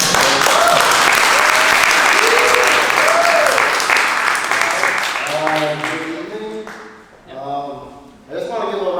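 An audience at a talk on Filipino American tattoo history claps in loud, dense applause with cheering voices, then the clapping thins out and a person starts speaking as it fades.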